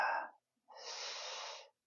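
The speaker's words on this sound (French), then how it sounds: "Je prends une respiration" A person takes two audible breaths close to the microphone: a short exhale, then after a pause a longer, steady inhalation lasting about a second, with no talking.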